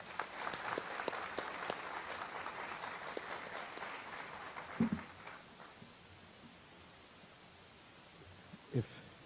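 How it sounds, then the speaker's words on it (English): Applause from the audience at a school district's State of the District address, a steady wash of many hands clapping that fades after a few seconds and leaves a quiet room with a couple of soft thumps. "If we can give them another round of applause"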